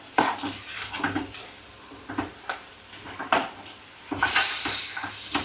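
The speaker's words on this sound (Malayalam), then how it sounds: "ഇനി ഇതെല്ലാം കൂടെ ഒന്ന് മിക്സ് ചെയ്യാം." Turmeric, salt and other spices stirred in a pan for a chickpea curry, with irregular metal-on-pan scrapes and clinks coming in bursts at close range and no talking.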